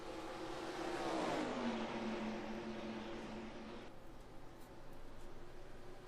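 A stock car's engine roars and climbs in pitch as it accelerates hard on the bottom lane during an Atlanta oval race in a racing video game, loud and steady with a continuous engine drone and no talk.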